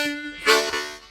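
A harmonica played by drawing on holes 1, 2 and 3 together, giving a rich chordal sound for a short phrase of Angeline the Baker; sustained reedy chords swell in the middle and then fade, alone and close.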